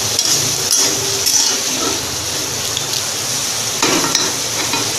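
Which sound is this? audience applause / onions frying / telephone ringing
onions frying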